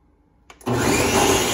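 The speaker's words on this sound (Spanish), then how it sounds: "ya que tenemos todo aquí en la licuadora y la grenetina se está hidratando" Kitchen blender starting up on a gelatin and cream mixture: a couple of short clicks, then the motor kicks in to a loud, steady whirring roar that continues to the end.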